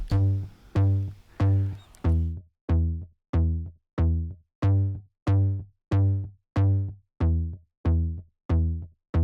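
An Omnisphere tine bass synth plays a steady run of evenly spaced, punchy plucked notes with a bright attack and quick decay, heavily processed and rhythmic.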